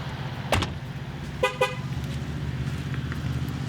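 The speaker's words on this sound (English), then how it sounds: "Gotta love the Ford honks for no reason." A Ford shop car, an older four-cylinder project bound for drifting, lets out short horn toots: one near the start and two quick ones in the middle, loud and close over a steady low background hum.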